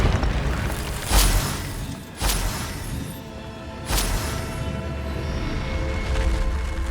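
Incendio fire spells are cast in the video game Hogwarts Legacy, giving three separate booming blasts spaced about a second or two apart over a lingering low rumble.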